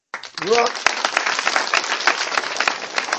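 A church congregation breaks into applause to acclaim the Lord, a steady wash of many hands clapping that starts suddenly and continues evenly for several seconds, with a brief voice at the outset.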